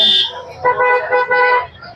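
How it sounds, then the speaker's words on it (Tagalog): Two short, bright horn honks sound in quick succession, each lasting about half a second, over faint background noise. "Nagugulat siya sa mga busina eh."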